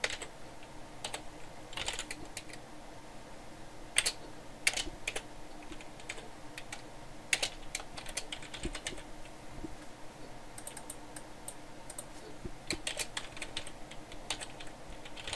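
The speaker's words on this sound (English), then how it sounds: "keep typing all this out" Typing on a computer keyboard while setting up a Minecraft server, with quiet, irregular clicks and occasional louder key taps that run steadily for about fifteen seconds at close range, no speech.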